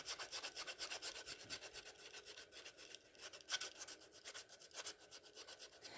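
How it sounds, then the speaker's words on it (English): Hand filing and sanding along a wooden edge, with rhythmic back-and-forth rasping strokes repeating steadily, close and clear with no talking. "give it a good sanding"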